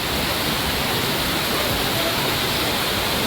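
Heavy rain pours down with rushing, surging water, a dense and loud broadband roar that holds steady and close throughout with no voices.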